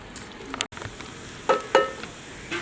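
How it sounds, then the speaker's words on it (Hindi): Finely chopped onions frying in hot oil in a karahi, a steady soft sizzle with a few brighter crackles and scraping stirs, close and alone with no talking. "2 बारीक कटे हुए प्याज है मेरे पास, ये शामिल कर लेंगे और प्याज को सुनहरा होने तक भून लेंगे"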